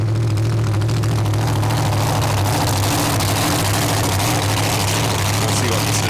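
A racing jet boat engine idles loud and close at the starting line of a professional jet boat race in Port Angeles, a steady low rumble throughout under commentary.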